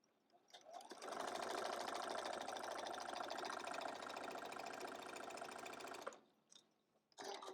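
A sewing machine stitches quilt squares in a fast, steady whir lasting about five seconds, then stops, followed by brief small clicks and handling noises.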